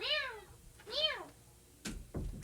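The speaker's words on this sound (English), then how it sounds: "why is my cat meowing to be let in?" A cat meows twice near the microphone, two rising-falling cries about a second apart, followed by a couple of sharp thumps or bumps nearby.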